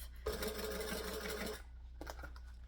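Close, quiet run of a sewing machine stitching a bag lining: a steady rapid whir for over a second, then stopping, followed by a couple of faint clicks.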